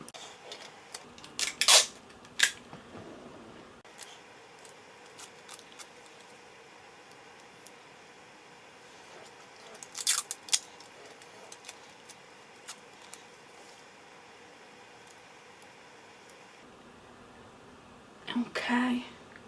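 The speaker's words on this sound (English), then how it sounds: "We're going to be putting some tape on." Makeup tape is torn and applied for an eye look, with a few short, sharp ripping bursts spread apart amid soft whispered talk in a quiet room.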